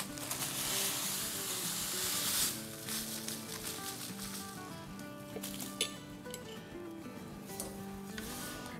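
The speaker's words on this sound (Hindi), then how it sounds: "सेवइयाँ हमारी रोस्टेड ही है लेकिन इसको फिर भी थोड़ा रोस्ट करेंगे" Vermicelli sizzles softly as it is roasted in a hot pan, a faint, steady crackle broken by occasional scraping and clinking of a utensil stirring. No one speaks.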